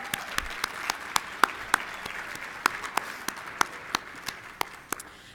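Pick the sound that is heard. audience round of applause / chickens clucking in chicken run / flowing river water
audience round of applause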